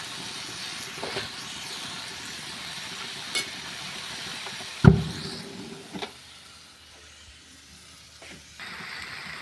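Potatoes frying in a pan for a curry to go with kachori, a low steady sizzle with occasional clinks and scrapes of stirring, one louder knock midway, no talking.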